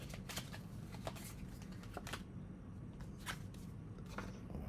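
Deck of game cards for Terraforming Mars shuffled by hand on a table, a run of quick crisp riffling bursts and soft slaps, close and quiet.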